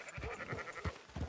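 Sheep bleat in a Red Dead Redemption 2 game scene, several short nasal calls in quick succession at moderate level over a low murmur of ambient sound.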